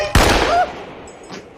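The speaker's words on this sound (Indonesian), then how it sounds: "si pria bertopeng pun memberikan 2 tembakan peringatan" A pistol fires a sharp, loud single shot in a zombie film scene, followed by a decaying echo and a faint second sound.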